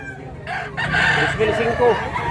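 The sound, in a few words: rooster crowing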